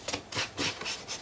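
Ink being rubbed onto the paper edges of a Stamperia forest-themed card cover, giving a series of soft, close scuffing strokes in an uneven rhythm, with no talking.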